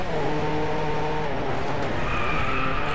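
W Motors Lykan HyperSport sliding through a drift in Driveclub, a loud steady engine roar with sustained tire squeal running throughout, close and unbroken.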